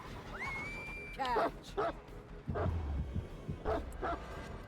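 The Houndmaster's dog in Dead by Daylight gives a few short yips and whimpering barks, moderately loud, amid game noise and a brief rising electronic tone.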